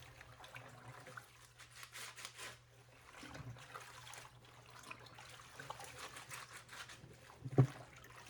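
Salad greens get washed in cool water, with faint trickling and gentle swishing that rise and fall over several seconds, plus a low steady hum and a soft knock near the end.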